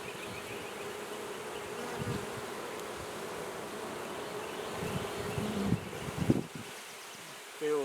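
Honey bees buzz steadily inside a hive, a dense continuous hum close up with a few louder passes near the end.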